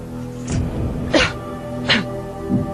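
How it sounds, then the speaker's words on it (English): Two short, sharp coughs from one person in a Who Wants To Be A Millionaire studio, spaced apart over a low steady background hum, with a soft throaty sound at the end. "coughs twice"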